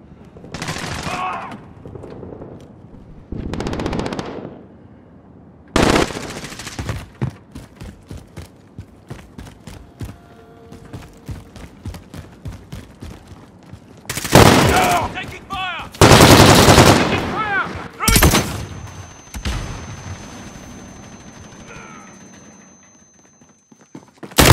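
Gunfire in Call of Duty: Modern Warfare, bursts of rapid automatic fire and single loud shots scattered through the clip, some sharp and close, with quieter gaps between and occasional voices.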